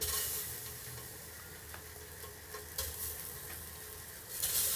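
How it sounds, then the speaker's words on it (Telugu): Eggs go into 3 to 4 tablespoons of hot oil in a pan for egg biryani, giving a soft, steady sizzle with occasional light taps and a brief louder hiss at the end, no talk. "ఇప్పుడు ఎగ్స్ ఇందులో వేసుకుందాము"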